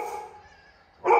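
A dog barks outside an open window near the end, a short loud burst after quieter background noise.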